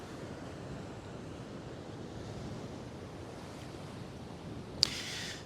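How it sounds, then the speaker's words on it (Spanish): Sea waves surging against the rocky cliffs of Quintero on the central Chilean coast, a steady broad wash of surf with wind noise, continuous and moderately distant, with a brief sharp knock near the end. "Entonces aquí tenemos nosotros el mar"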